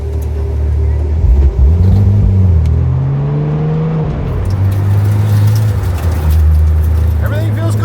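A rebuilt Porsche 997 911 Turbo is driven, its engine droning close by and rising and falling in pitch as it accelerates, with talking over the engine.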